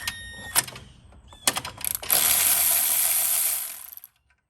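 A ratchet socket wrench loosens a 10 mm bolt in the engine bay of a BMW E92, with a few close clicks and clunks, then a burst of rapid ratcheting that stops abruptly.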